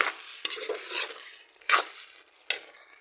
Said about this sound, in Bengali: মরিচ গুঁড়া দিয়ে দিয়েছি আর আমি এখন ভালোভাবে মিশিয়ে নেব।